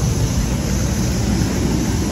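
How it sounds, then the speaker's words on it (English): Loud, steady low roar of a large airliner engine running close by as passengers board from Tanzania, a continuous broadband drone without pauses. "It's a big ass engine."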